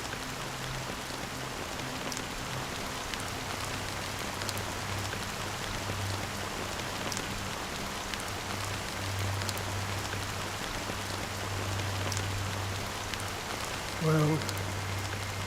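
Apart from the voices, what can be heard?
rain in Honkai Star Rail video game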